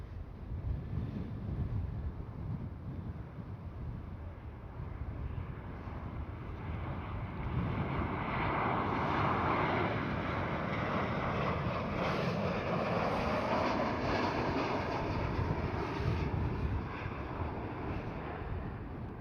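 A KLM Boeing 737-700 airliner passes at Schiphol, its roar swelling gradually out of wind buffeting the microphone, holding loud and broad for several seconds, then easing off.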